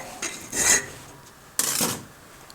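Two separate rasping strokes of a file working a handmade folding knife, each a short scraping burst about half a second apart from the next pause, close and fairly loud against quiet surroundings.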